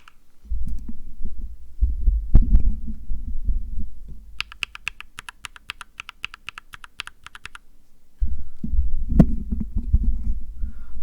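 Keys clatter on a mechanical keyboard with lubed Mauve linear switches, a quick run of close, clacky keystrokes in the middle, set between stretches of low thumping handling noise.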